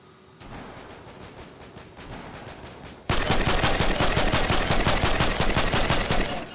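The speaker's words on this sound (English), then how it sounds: "Oh, I heard gunshots." Rapid automatic gunfire in a video game, with steady quieter bursts that suddenly jump to a loud, dense, continuous stream of shots for the second half.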